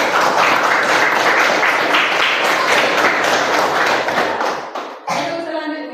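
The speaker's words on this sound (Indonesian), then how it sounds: "tepuk tangan ya" A class of students claps together in an Indonesian classroom lesson, loud rhythmic group clapping for several seconds that stops abruptly, followed by a brief softer tail.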